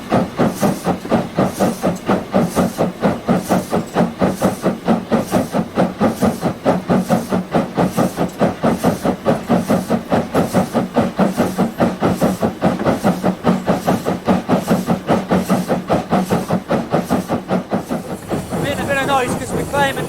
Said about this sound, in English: you can actually hear the engine working as we come out of Keighley